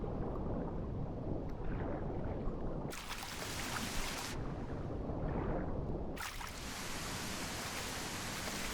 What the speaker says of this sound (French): Bon, il pleut.